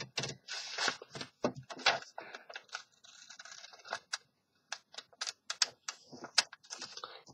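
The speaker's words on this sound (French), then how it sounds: "Moi ça va un peu plus vite car j'ai un grand ciseau." Large scissors cut through paper for a paper sculpture, producing a close series of crisp, irregular snips and rustles with a brief pause midway.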